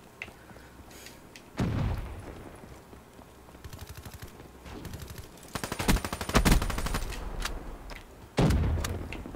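Shotgun gunfire in Black Ops 3 with a diamond camo finish, loud booming blasts in bursts across the stretch, some clustered rapid shots mixed with game background noise.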